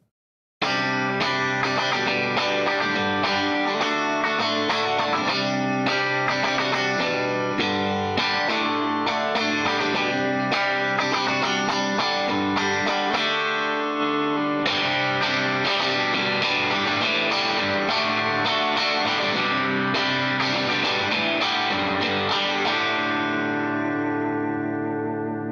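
Electric guitar played through a Vox AC15 amplifier, chiming clean chords with effects and a touch of overdrive, ringing out steadily, a brief pause midway before strumming resumes.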